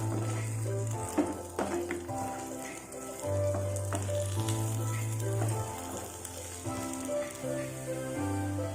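Eggplant fries in an Indian kitchen pan with a steady sizzle while it is flipped, the scrape of turning mixed with soft background music.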